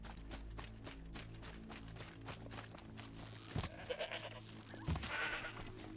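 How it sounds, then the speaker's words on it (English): A goat bleats in Horizon Zero Dawn, with a few short, fairly clear calls over steady game music and ambience. "It's another goat."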